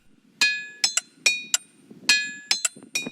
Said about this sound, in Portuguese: Vários músicos procuram o local para compor melodias com sons diferentes, produzidos pelas batidas de martelo nas pedras